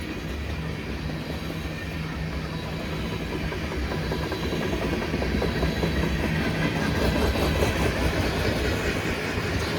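A freight train carrying hazardous chemicals, including hopper cars, rolls steadily past nearby, wheels clacking rhythmically over rail joints, the rumble growing slightly louder partway through.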